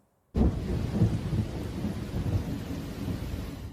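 Severe summer thunderstorm with loud thunder rumbling and steady heavy rain, starting abruptly after a brief silence and sustained close and full throughout.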